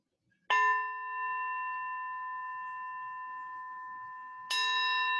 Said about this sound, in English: I'm just going to ring my little bell.